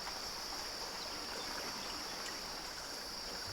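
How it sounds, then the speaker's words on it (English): Steady rushing of waterfall water inside a VR fishing game, a continuous broadband wash that stays even and unbroken, heard alone with no talk over it. "It's like a waterfall or something."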